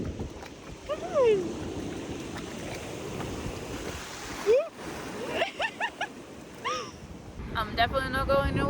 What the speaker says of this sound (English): It's a bit more windy out than I thought.